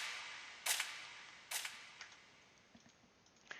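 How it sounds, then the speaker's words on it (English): A gunshot percussion sample in a drill beat: two sharp, bright cracks about a second apart, followed by fainter clicky hits trailing off over a soft hiss. "Then the shutter perk, the gunshot."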